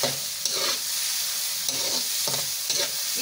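Okra (bhindi) with masala frying lightly in a pan gives a steady close sizzle, broken by a few scraping stirs of a spoon against the pan.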